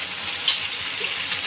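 Tomato puree masala for paneer butter masala sizzles steadily in oil as the oil separates, giving a continuous, even hiss with no talking.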